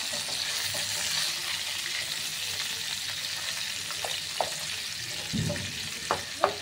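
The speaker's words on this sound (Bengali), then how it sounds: "ভোলা মাছ বেশি ভাজতে হয় না, অল্প ভাজলেই হয়।" Bhola fish frying in hot oil, a light fry for a mustard kasundi fish curry, giving a continuous close sizzle with a few sharp pops and utensil taps near the end.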